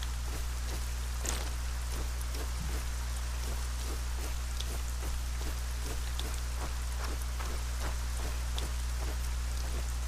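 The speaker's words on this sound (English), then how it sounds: "Man, it rains like crazy here." Heavy rain pouring steadily in the fantasy role-playing game ArcaniA, a dense continuous hiss with scattered sharper drop impacts and a low steady hum beneath, loud and constant throughout.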